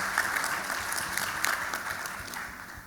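Steady applause from a crowd, dense clapping throughout at a fairly even level.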